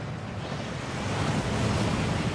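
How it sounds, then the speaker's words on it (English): A waterfall in the Gringotts vaults in Hogwarts Legacy, a broad, steady roar of rushing water that swells slightly toward the end, with no voices. "That waterfall washes away all enchantments."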